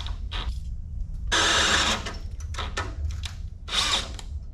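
Power drill working on a 1972 C10 truck during a 454 big block install and rear crossmember exhaust modification, several short whirring bursts starting and stopping over a low engine-like rumble, close and fairly loud.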